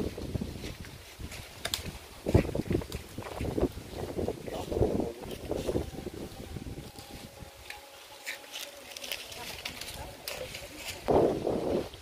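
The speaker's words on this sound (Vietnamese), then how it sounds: "Gió quá." Strong wind buffets the microphone outdoors while golden wattle and eucalyptus trees are being cut, making low, rumbling gusts that rise and fall, with people talking intermittently.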